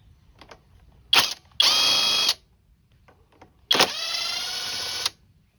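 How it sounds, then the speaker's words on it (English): 10 millimeter bolts come off a lawn mower airbox with loud, close bursts of a power ratchet or driver whirring: one short burst, a longer one, then a sustained run after a pause, with faint clicks in between. "The first step is to take these two bolts off here."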